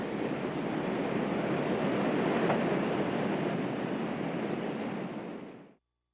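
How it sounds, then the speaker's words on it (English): River rapids rush in a loud, steady broadband roar of churning water, continuous and close, then cut off abruptly at the end. "That is the rapid at the end of Beachy Lake."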